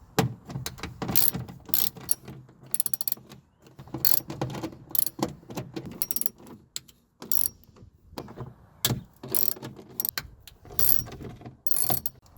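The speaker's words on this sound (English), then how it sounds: "So what I'm going to do is I'm going to take all these bolts off." A hand ratchet clicks away at bolts on the inner door panel of a Nissan 350z, in uneven bursts of rapid pawl clicks with short pauses between them, close up and without talk.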